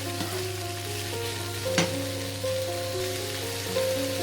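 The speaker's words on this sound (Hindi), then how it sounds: "अभी हमारे पास आलू और मटर हैं, इनको भी इसमें ऐड कर लें, इनको भी लाइट सा सौटे करना है हमने।" Potatoes and peas sautéing lightly in a pan, a soft continuous sizzle with a steady low hum beneath and one sharp clink of a utensil, no voices.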